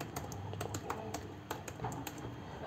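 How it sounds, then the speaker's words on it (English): Quick taps on a computer keyboard as a password is entered, a soft, close run of irregular keystrokes over light room noise. "let me type my password"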